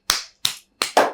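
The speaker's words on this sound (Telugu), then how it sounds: "క్లాప్స్ కొట్టండి అందరూ." A few sharp hand claps at a Telugu interview show, four separate crisp claps spaced irregularly over about a second, close and alone with no talk.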